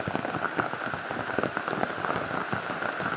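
Steady rain patters densely on a surface, a continuous soft hiss of drops with no voices.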